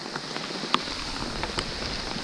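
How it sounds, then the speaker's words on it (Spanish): Heavy rain pouring down on a road trip, a steady hiss of drops on surfaces with scattered sharper patters and a faint rumble of wind underneath, no one talking. "Mira cómo llueve, por favor."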